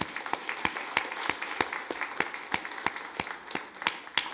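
A small congregation claps during a Korean church service, welcoming a family, producing a steady run of sparse, distinct hand claps at moderate distance in a reverberant sanctuary, with no talking over it.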